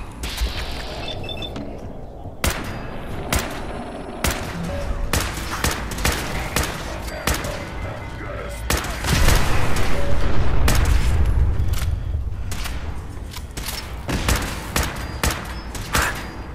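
Gunfire in Fallout 4, with repeated sharp shots scattered throughout, mechanical clatter, and a louder booming rumble in the middle, all close and fairly loud with no talking.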